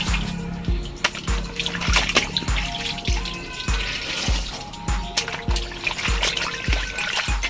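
A kanebo chamois cloth used to wash a glamping tent is wrung out by hand, with water trickling and dribbling close by and regular squeezes repeating about every half second.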